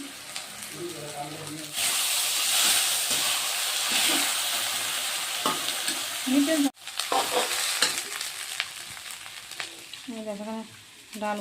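Lentils fry in a hot pan, giving a loud, dense sizzle with stirring scrapes that runs for most of the stretch. There is a brief pause midway, and a voice is heard faintly at the start and near the end.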